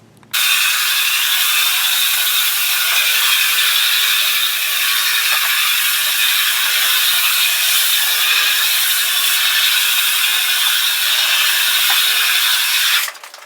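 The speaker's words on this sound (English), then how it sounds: "we're going to come in with a very, very fine sandpaper, and we're going to sand it real quick" A sander runs across a hardwood floor with very fine sandpaper, giving a loud, steady, unbroken hiss that holds for about thirteen seconds before cutting off.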